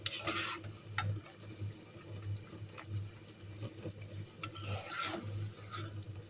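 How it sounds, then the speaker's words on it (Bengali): A spatula stirs white meat rezala with roasted cumin powder in a pot, making soft rhythmic scraping and rubbing strokes with a few light ticks, close and fairly quiet, with no talk. "এখন একটু মিশিয়ে নিচ্ছি।"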